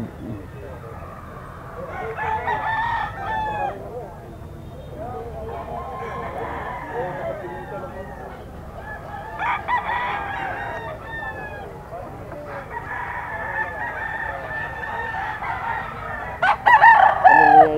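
Young ten-month gamecock stag crowing repeatedly at a pet market, each crow rising clearly over a steady crowd murmur with nearby clucks and people talking.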